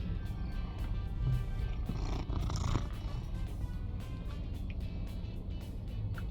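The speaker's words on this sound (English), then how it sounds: "Oh, he's such a happy kitty." A cat riding in the buddy seat of a 1978 Dodge D300 pickup purrs steadily and continuously, a low, close rumble with no talking.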